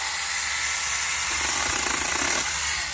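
Seesii 6-inch cordless mini chainsaw cutting through a dead tree branch, a continuous close, loud buzzing whine with the chain bogging slightly mid-cut, no talking.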